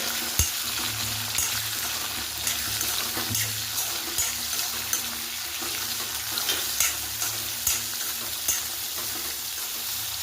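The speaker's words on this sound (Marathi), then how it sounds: "मी ऍड करते याच्यात कांदा, 1 मोठा कांदा आहे, तो परतून घ्यायचा व्यवस्थित या पद्धतीने" One large onion sautés in a pan for Maharashtrian dodka dal, giving a continuous even sizzle with faint scraping stirs throughout, close and steady.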